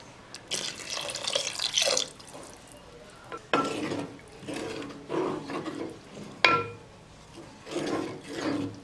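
Water is poured in bursts into a simmering pot of sardine fish curry, splashing and gurgling in several uneven pours with short pauses between them.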